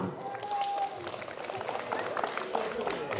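Crowd applause at an outdoor parish picnic, a steady wash of many hands clapping throughout, with a voice talking over it near the start.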